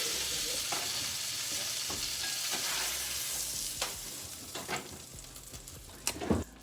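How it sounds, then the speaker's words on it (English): Cod fillets pan-fry in hot oil with a dense, steady sizzle and hiss. Scattered scrapes and taps of a utensil against the pan come through, with a louder clatter near the end, close up and with no voices. "So I'm just going to fry up the rest of the fish here now"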